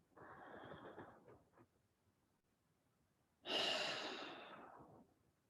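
A slow deep breath in, a pause, then a long, louder breath out during a guided breathing session, close and alone.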